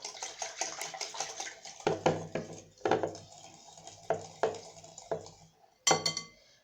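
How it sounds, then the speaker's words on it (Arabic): Oil being stirred into a dough mixture in a bowl for butterless, eggless croissants, heard as repeated clinks and scrapes of a utensil against the bowl with soft wet sloshing, close and irregular. "غادي ندير داك نص كاس ديال الزيت، غادي نبدا نحرك حتى يتجانسوا ليا العناصر مزيان"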